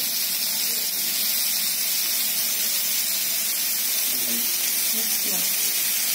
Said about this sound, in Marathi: 5 ते 10 मिनिटात तळून होता ती कारली. लो गॅसवर केले मी.